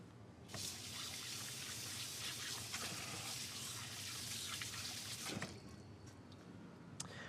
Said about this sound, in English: Just gonna give my hands a quick wash to get the eggs off.